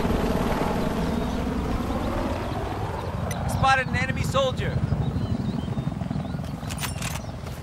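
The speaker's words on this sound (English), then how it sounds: "Helicopter" Helicopter in the video game Battlefield 4, a steady rotor drone filling the whole stretch with a brief louder swell midway, heard under in-game radio chatter and voices.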